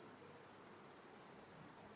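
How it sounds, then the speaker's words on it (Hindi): Insects chirp outdoors in a jungle-like setting, two faint, high, steady trills, the second longer, over a low background hiss. "आज ऐसे लग रहा है ना यहाँ मेंढक से बोल रहे"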